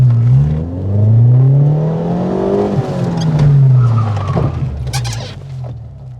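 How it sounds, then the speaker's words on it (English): A car brakes hard with all four wheels locked, the tires squealing loudly in a long, wavering howl as it skids to a stop, with a brief engine note near the end. "I'm going to reduce back to neutral and I'm going to lock all four wheels"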